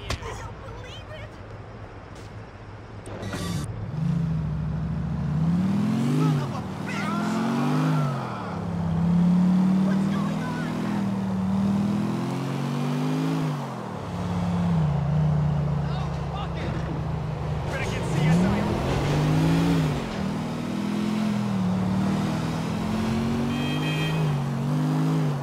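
A car driven in GTA IV revs and drones, its engine pitch repeatedly climbing and dropping through gear shifts, loud and close with brief pauses, and people talk at times.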